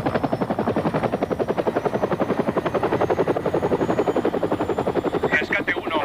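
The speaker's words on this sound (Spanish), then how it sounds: "los helicópteros médicos de Nebraska ya están en camino." A helicopter flies in a 1992 rescue film, its rotor beating in a steady rapid throb that stays loud and close throughout, with no voices.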